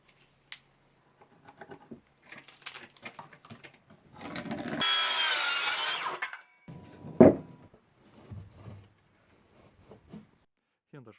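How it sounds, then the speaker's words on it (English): A notch is cut into bricks between the brackets of a small brick building under construction, a loud rough grinding burst lasting about two seconds, then a sharp knock, with scattered handling clatter around it. "setting the brackets requires cutting a notch for them into the bricks in between"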